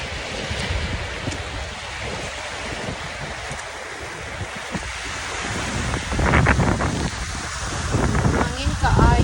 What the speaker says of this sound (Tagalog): Grabe kusog ang hangin.